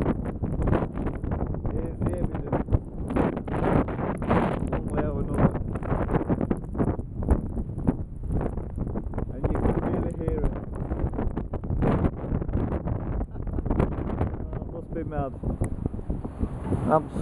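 Strong wind buffeting the microphone in heavy, rumbling gusts on a wet day in a city, with someone talking throughout over the roar.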